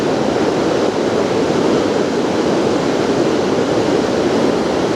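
Fast river current rushing near Ketchikan, Alaska, where salmon swim upstream from the ocean: a steady, loud, broadband roar of churning water that holds constant throughout with no pauses.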